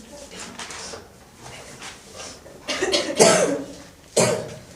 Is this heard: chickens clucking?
no